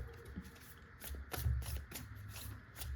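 Playing cards riffled and shuffled by hand during a pick-a-card tarot-style reading, a soft papery rustle with brief snaps and slaps, fairly quiet and close, with no voice.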